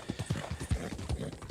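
Horse hooves clip-clop in Red Dead Redemption 2, a quick, steady run of close, distinct hoofbeats on firm ground.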